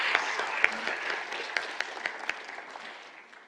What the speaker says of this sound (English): So if we can give another round of applause,